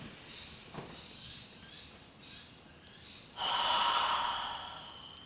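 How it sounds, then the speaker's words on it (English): A deep breath taken during an EFT tapping session: faint, breathy inhales early on, then one strong, close, sustained exhale-like rush that fades out, with no talking. "Okay, take a deep breath."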